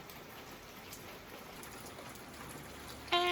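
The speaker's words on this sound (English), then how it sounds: "So tired of rain. Rain, go away." Steady light rain falling on a rainy day, a soft continuous patter at low level that holds evenly throughout, with a brief brighter tonal sound at the very end.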